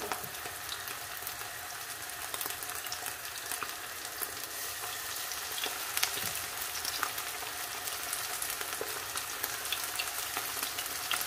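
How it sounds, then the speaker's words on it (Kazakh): Liver pieces fry in hot oil, producing a dense, crackling sizzle that runs close and steady for over ten seconds, dotted with sharp pops and spatters, without speech. "қызып тұрған майдың үстіне бауырды біртіндеп салып шығамыз осылай"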